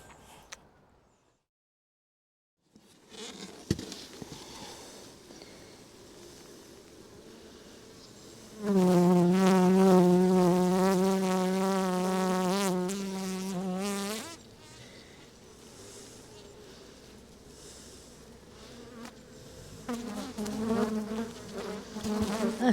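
Swarming honeybees in a back-garden hive drone in a loud, sustained buzz that swells in the middle and then eases to a softer hum, with some rustling and handling around it.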